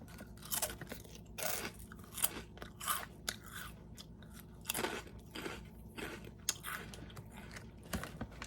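Close, crisp crunching bites of a crunchy cheddar snack, chewed in irregular bursts, loud snaps between quieter munching, with no talking.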